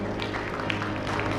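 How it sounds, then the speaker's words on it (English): An audience applauds panelists on stage at a digital lending conference panel, with a dense wash of steady clapping that holds at moderate level for the full span. "Can we have a huge round of applause for them?"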